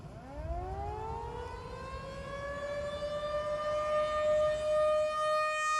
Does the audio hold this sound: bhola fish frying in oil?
no